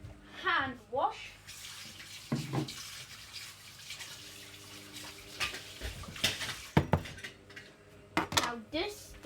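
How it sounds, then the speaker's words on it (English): Hands washed under running tap water in a kitchen while pancakes are being made, with a rushing stream, a few clinks of dishes and short bursts of speech over it. "Hand wash."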